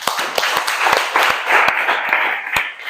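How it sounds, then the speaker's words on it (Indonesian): A class of students applauds together, a loud, lively run of overlapping hand claps with sharp individual smacks standing out from the dense patter, trailing off at the end. "Tepuk tangan."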